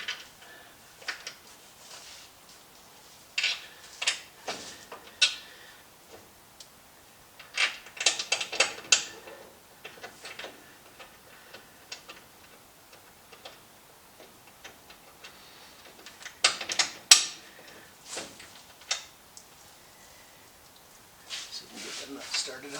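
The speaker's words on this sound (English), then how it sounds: "They're going to go down on the lower arm. Put those in real quick down here." Bolts being fitted into a car's lower control arm while a cooling system goes into an Impala: scattered clicks and metallic taps come in bursts, near and moderately loud, with quiet gaps between them.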